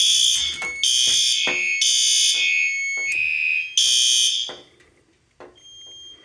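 A fire alarm system panel sounds during a test of an all-LED alarm setup, giving a loud, bright, repeating electronic tone in strong pulses of about a second, then cutting off and fading to a faint tail.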